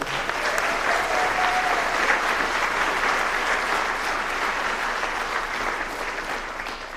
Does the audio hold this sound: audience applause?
yes